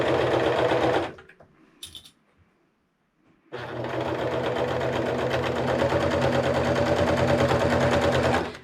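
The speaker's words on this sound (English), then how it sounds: "So now we got our serger here, and I just kind of pick one side and get going." A serger runs in a steady loud whir while stitching and trimming the edge of an upcycled t-shirt sweatshirt, stopping briefly before resuming a long continuous run.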